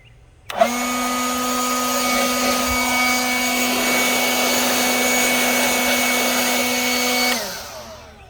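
A Ryobi P2109VNM leaf blower switches on with a click, then runs at a steady, loud, high-pitched whining roar for about seven seconds before cutting off and winding down, with no talking.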